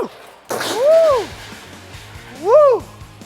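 Two loud, exaggerated sneezes come from a person playing a sneeze prank. Each is a drawn-out, voiced burst with a swooping pitch, about a second and a half apart, close to the listener.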